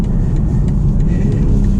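A BMW M340i xDrive with an 8-speed ZF transmission drives on a winter road, its engine and tyre rumble loud and steady from inside the cabin, a continuous low drone with no break.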